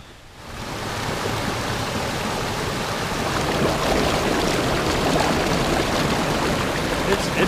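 A mountain stream in the Great Smoky Mountains pours noisily down a valley along a trail in autumn. The broad, steady rushing fills the whole stretch without a break.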